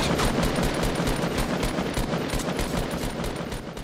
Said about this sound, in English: But I hear bullets.